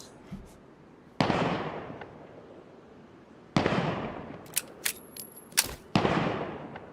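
Gunshots in a PVP video game, loud booming blasts with long echoing tails, spaced a second or two apart and mixed with sharper cracks.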